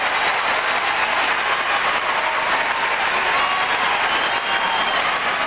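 A big, enthusiastic Wimbledon Centre Court crowd at a 1992 tennis match applauds loudly and steadily, a dense close wash of clapping that keeps going with no break.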